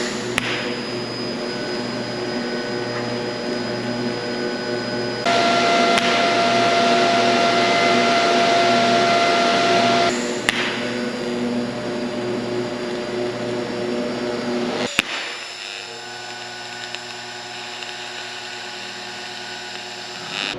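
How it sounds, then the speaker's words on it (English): Welding sheet steel to a steel DOM tube while building an all-steel 1930 truck bed, a steady loud hum and hiss with tonal whine that shifts intensity in sections, running alone without talk. "So let me weld this to it."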